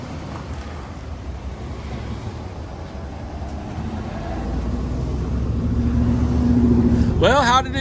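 A 2003 GMC Sierra SLE pickup truck rolls in from a test drive, its engine a steady low rumble that grows louder as it nears, with a brief squeal near the end.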